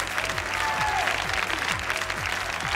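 Warm applause from a gala concert audience at an Armenian Superstar show, steady dense clapping filling the clip, with faint musical tones underneath and a low rhythmic thump.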